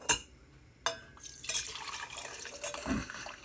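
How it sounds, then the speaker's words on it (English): Hot chicken stock poured into a glass Weck jar for pressure canning, with a sharp clink at the start, another knock, then a close, trickling fill of liquid splashing into glass at a modest level. "try and pour some stock into that jar"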